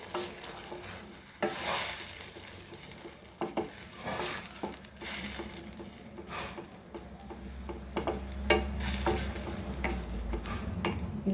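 Green masala for Goan tarle sukhe fries in a pan with tomato puree, a soft steady sizzle broken by repeated scraping stirs and light spoon taps, close and fairly quiet.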